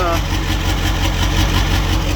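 A Ford F350 with a 7.3 Powerstroke diesel engine idles loud and close with its exhaust disconnected and one injector needing replacement, a steady, raw, rhythmic rumble with even pulsing throughout.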